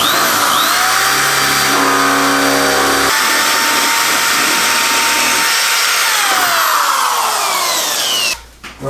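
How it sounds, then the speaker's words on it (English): A power drill with a 3/8 bit bores holes through a Jeep Wrangler bumper, its loud, steady motor whine shifting pitch as the bit bites and slows, then cutting off abruptly near the end. "Alright, now we've got our holes drilled."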